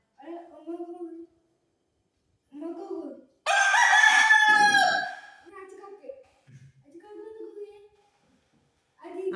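A rooster crows on command once, loud and close, a long strained call rising over the middle of the scene, while a person speaks before and after coaxing the bird.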